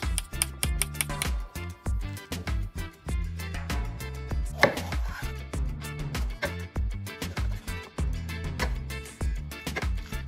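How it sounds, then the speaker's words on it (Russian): Rapid knife chops on a cutting board, slicing zucchini and peppers, close and crisp, in uneven bursts of quick taps that continue throughout with brief pauses. "Цукини и паприку нарезать с небольшими кусочками"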